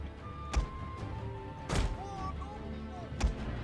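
Cannons fire in a Total War strategy battle with a Russian army: three heavy booms come at spaced intervals over a steady battlefield bed with faint tonal music.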